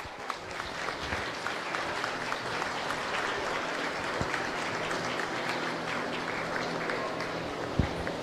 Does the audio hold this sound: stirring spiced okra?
no